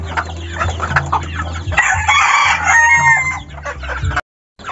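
Gamecock roosters cluck close by in a steady, busy chorus, with a loud crow rising in the middle and trailing off before a short silence at the end.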